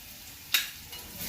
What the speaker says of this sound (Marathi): ते लसूण आणि मिरची चांगली फ्राय झाल्यानंतर आपण यात भाजी घालणार आहोत